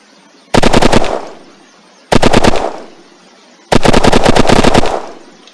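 Loud machine-gun fire from a World War I weapon mod in the video game Unturned, in three close bursts of rapid shots, each ending in a short echoing tail, with near silence between them.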